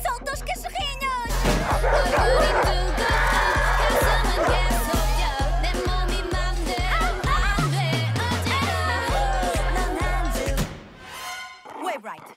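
Puppies bark in a rapid, regular string of yips set over a pounding K-pop party beat, with voices shouting along before the music cuts out near the end.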